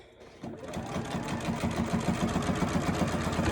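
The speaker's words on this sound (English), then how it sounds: "I'm gonna do an 1/8 of an inch seam right along here" Sewing machine stitching an eighth-inch seam along the edge of a fabric mask, starting after a brief quiet moment and then running fast and steady with a rapid mechanical rhythm, close up.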